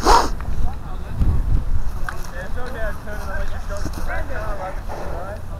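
Outdoor wind during a Nerf humans-versus-zombies game, a steady breathy rush with gusty swells throughout, while people talk and call out over it.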